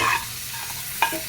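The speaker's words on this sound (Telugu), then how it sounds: "పోపు దోరగా వేయించుకుని ఇందులో వేసేసుకోవాలి" Fenugreek tempering, fried until golden, hisses and sizzles as it is tipped into buttermilk, with a short burst of sizzle near the end. There is no speech.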